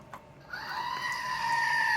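A Screaming Goat novelty toy lets out a single drawn-out, rising bleat-like scream that holds loud and strained to the end, with no talking over it.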